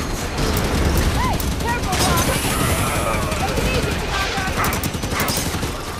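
Mounted turret gunfire in Halo 5, a dense sustained stream of rapid shots with booming impacts and clattering effects running the whole length, loud and continuous, with a voice talking over it.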